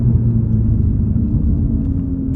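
An Audi S3 8V with a tuned 450 bhp engine runs at full throttle through a bend, a loud, continuous low rumble heard from inside the car without any talking.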